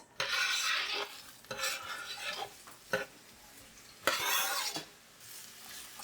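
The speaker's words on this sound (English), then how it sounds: "So I'm just going to mix them up in the oil so they all get coated." A spoon scrapes and stirs onions and garlic sizzling in oil in a pan, in several short bursts with quieter frying between them, close up.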